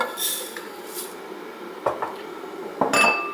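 Clattering and rattling of about 350 grams of dry macaroni tipped into a metal pan, with a few sharper clinks standing out near the end.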